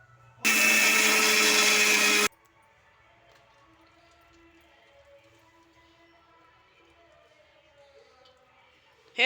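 An electric mixer grinder runs at home in a single loud, close, high-pitched whirring burst of about two seconds, then cuts off abruptly, leaving only faint room sound.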